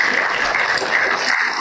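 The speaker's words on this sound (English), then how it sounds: "Everybody clap for her." Audience applause fills a conference hall after a talk on heart health, a dense steady patter of many hands clapping throughout the short burst with no voices over it.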